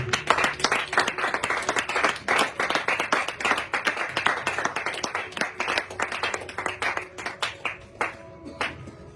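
A church congregation claps and cheers for Jesus, with rapid, dense handclaps carrying steadily at full strength throughout before thinning slightly toward the end.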